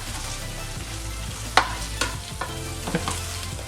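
Potatoes and chopped vegetables stirred through olive oil in a pan for a breakfast hash, a steady close sizzle under a few sharp scraping clacks of the spoon against the pan.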